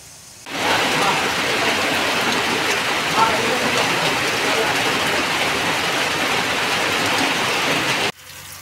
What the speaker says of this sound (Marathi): पाऊस तर एवढ्या जोरात पडाला आहे